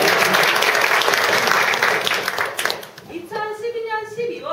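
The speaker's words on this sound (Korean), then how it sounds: "그 박수라도 한번" A Korean gathering audience bursts into loud, dense applause that fills the room, then thins out as a voice begins speaking over the fading claps.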